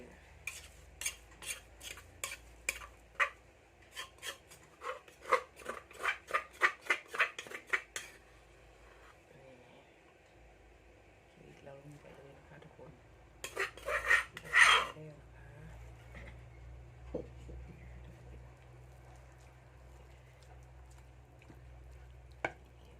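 A utensil scrapes and clinks rhythmically against a pot while cassia leaf curry is stirred, a close run of metallic strokes followed by quieter bubbling and a brief burst of scraping clatter.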